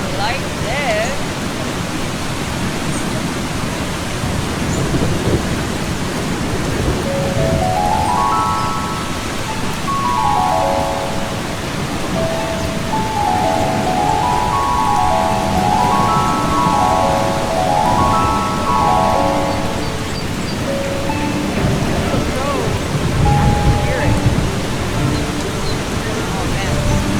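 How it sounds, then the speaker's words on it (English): Steady rain pours throughout in the video game Eastshade, a dense hiss with a low rumble of thunder beneath, while faint melodic chimes drift in over the middle of the downpour. "Oh, it's a storm."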